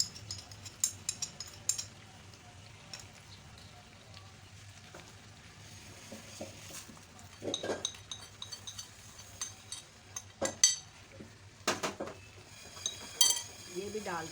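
Spices going into mutton karahi in a pan, heard as scattered clinks of a spoon and utensils against the pan over a low sizzle, close and intermittent, with no talking.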